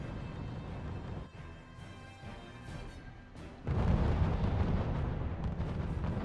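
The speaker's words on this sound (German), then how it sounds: "Ja, Artillerie ist klar." Artillery fire in the real-time strategy game RUSE, heavy booming rumbles rolling over a battlefield, with a dense, louder barrage of blasts breaking in partway through and continuing to the end.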